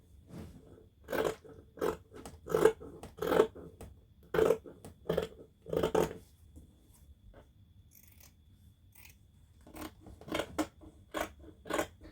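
Scissors cutting out velvet fabric circles, a series of crisp snipping clicks in irregular bursts with short pauses between, close and moderately quiet, no speech.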